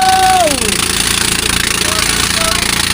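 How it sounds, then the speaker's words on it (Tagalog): Two rice mill machines run together, giving a loud, dense mechanical roar with steady rumbling vibration throughout. A falling whine appears near the start, and voices can be heard over the machinery. "Dalawang makina ang binuksan."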